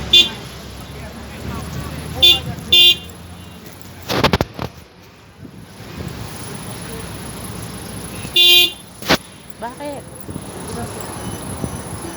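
Several short car horn toots sound on a busy street corner in Al Nahda, a couple of brief beeps and a longer honk, with traffic noise and a passing vehicle.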